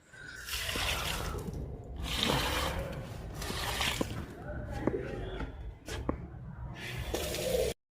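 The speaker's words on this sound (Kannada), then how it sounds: "ನಾಳೆವರೆಗೂ ಗಿಡಕ್ಕೆ ನೀರು ಹಾಕ್ಬಿಡೋಣ" Plants being watered at home before a trip, with water splashing and dripping in uneven bursts over about eight seconds, close and moderately loud, mixed with handling knocks and faint background sounds.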